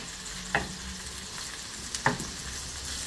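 Bell peppers sizzle as they grill in a pan, a soft continuous frying hiss broken by two sharp clinks of a utensil stirring against the pan.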